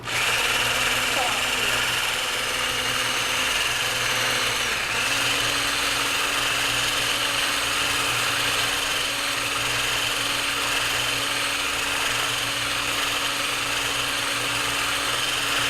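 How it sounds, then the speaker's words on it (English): A blender whirs steadily and loudly as it mixes reptile feed with calcium and Vionate supplement, its motor pitch dipping briefly near the middle before holding an even drone. "now we mix this with a blender here"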